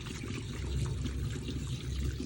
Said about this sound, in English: run the water until all the milk is washed away